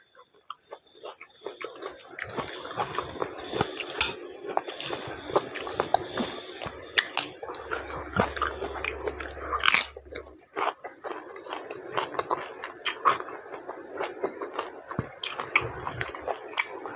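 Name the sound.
eating and chewing tomatoes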